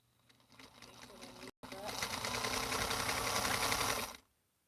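An unthreaded sewing machine at a quilting event runs in a steady close whir that quickens after a brief stop, with people talking over it.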